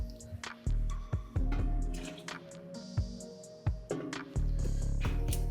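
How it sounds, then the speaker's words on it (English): Water poured to rinse out a container into a cooking pot while making chicken and rice, with splashing, dripping and pouring bursts over a steady low background, fairly close. "just rinse this with water to get all the rest of that in there"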